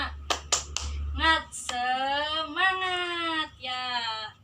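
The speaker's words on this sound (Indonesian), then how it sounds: "Ibu akan pimpin kalian untuk tepuk semangat." A classroom spirit clap (tepuk semangat): three quick, sharp claps open the clip, followed by voices chanting in a sing-song, sustained tone.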